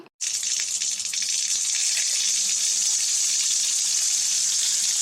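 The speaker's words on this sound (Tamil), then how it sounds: "தண்ணி பிடிச்ச வரைக்கும் போதும்" Water running steadily into a pot in a Tamil cartoon scene, a continuous gushing splash that starts after a brief pause and holds loud and unbroken to the end.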